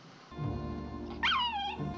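A dog yelps in a 1956 western film scene, a single sharp, rising and falling cry that rings out loud over a low background hum.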